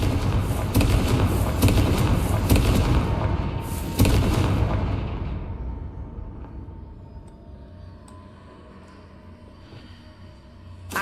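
Confringo spell explosions in Hogwarts Legacy: loud booming blasts with fiery crackle, a strong hit near the start and another around four seconds, then a long fading rumble into near quiet with a small thump at the very end.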